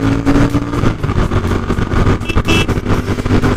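Royal Enfield Continental GT 650 cafe racer motorcycle accelerating hard on a test ride, a loud, steady engine drone with a rising growl and pulsing exhaust throughout.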